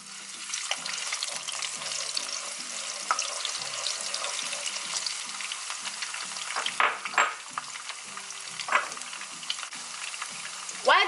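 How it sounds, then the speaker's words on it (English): Chopped onion frying in hot vegetable oil for jollof rice, a steady loud sizzle and crackle throughout with bursts of stirring and spoon scrapes against the pot, no voices. "My oil is hot. I'm going to add the onion."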